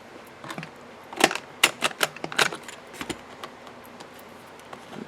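A We R Memory Keepers corner chomper set to the 1/2 inch option rounds off the corners of laminated paper, giving a run of sharp, close punch clicks in a quick uneven series, then a few fainter ones.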